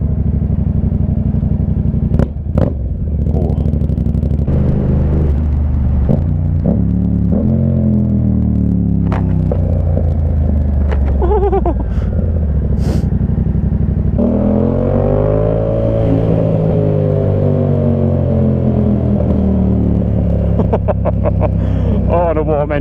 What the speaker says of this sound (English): Oh, the warm engine, it pops so lovely.